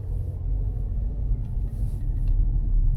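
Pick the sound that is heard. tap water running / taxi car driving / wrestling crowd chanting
taxi car driving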